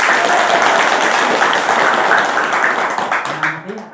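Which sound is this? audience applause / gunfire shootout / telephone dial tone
audience applause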